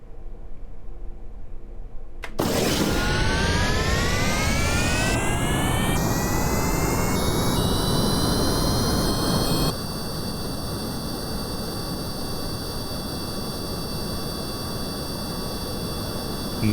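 A plane's jet engine in the video game Kerbal Space Program spools up to full throttle, a sudden roar with a rising whine that climbs in steps and then holds as a loud, steady, hissing drone.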